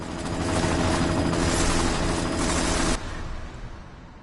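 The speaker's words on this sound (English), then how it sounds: "You've got to stop that chopper." Helicopter from the video game Deus Ex: Mankind Divided, a loud, steady mechanical roar with dense rotor and engine noise that cuts off sharply about three seconds in, leaving a fainter lingering tail.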